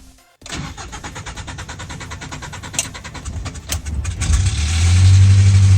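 Mazda B2600i pickup truck engine, suffering a no-power, bogging-down fault, cranks with steady rapid pulses for several seconds, then catches and settles into a loud, close, low idle.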